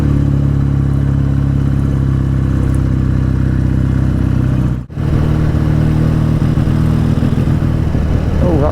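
BSA Super Rocket motorcycle engine warming up on a cold winter day, a steady loud idle with a rough mechanical clatter, a brief dip midway, then running on at the same throb.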